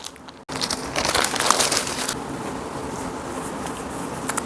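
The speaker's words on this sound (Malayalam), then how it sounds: "ആമസോണിൽ നിന്നിട്ടുള്ള ഈ പാക്കറ്റ് അൺബോക്സ് ചെയ്യാം" An Amazon packet holding a cotton chikankari kurti being unboxed: close crinkling and rustling of plastic packaging in a loud burst after a brief quiet start, easing into softer rustles, with no talking.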